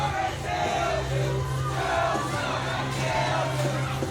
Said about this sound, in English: Listen to this crowd at Mid-States Arena.